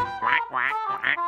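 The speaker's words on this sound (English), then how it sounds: "waddle with Dumpling Duck." A cartoon duck from a children's animated show gives three quick, bright quacks spread across a second and a half, close and clear with no talk over them.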